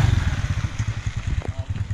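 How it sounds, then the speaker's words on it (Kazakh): A motorcycle engine thumps in a quick, regular low pulse nearby, running steadily with no voices. "Арнайы іздеп шыққан жігіттер міне мотоциклмен."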